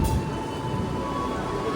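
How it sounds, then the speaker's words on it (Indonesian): A steady low rumble of a nearby passenger train rolling past in West Sumatra, Indonesia, with a thin high metallic whine over the constant noise. "tuh kereta api mau lewat tuh"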